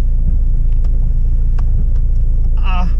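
A car driving on the road, heard from inside the cabin as a loud, steady low rumble of engine and tyres, with a brief voice coming in near the end.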